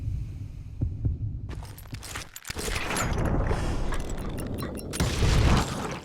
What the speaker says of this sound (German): Wenn du deinen Herzschlag hörst, kannst du deine Waffe zuerst ziehen.